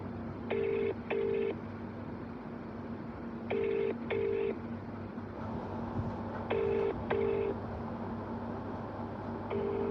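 Telephone keypad dialing tones for a prank call sound as short paired beeps in three quick bursts, spaced a few seconds apart over a low steady hum, with no talking.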